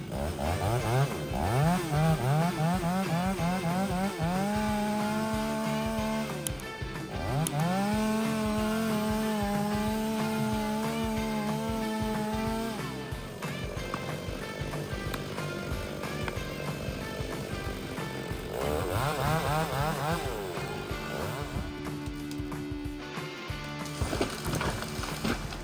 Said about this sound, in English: this chainsaw delivers incredible rough cutting power. With its large guide bar, it easily cuts through giant tree trunks